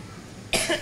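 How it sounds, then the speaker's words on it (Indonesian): A single sharp cough bursts out abruptly after a quiet stretch, loud and close, during a religious gathering in a mosque. "Batuk sudah."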